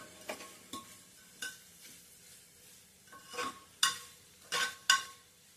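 Grated fresh coconut and masala stir-fried in a pan for matki usal, heard as a run of separate scraping stirs and clinks of a spoon against the pan, quiet between strokes, with no talking.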